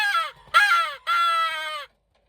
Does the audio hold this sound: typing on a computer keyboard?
no